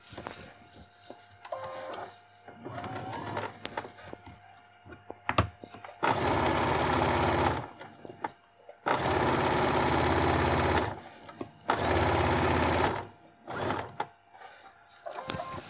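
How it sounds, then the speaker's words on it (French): Sewing machine stitching a square fabric pouch, sounding in several loud sustained bursts of rapid whirring, separated by quieter pauses with small clicks and handling noises. "Je fais ma couture."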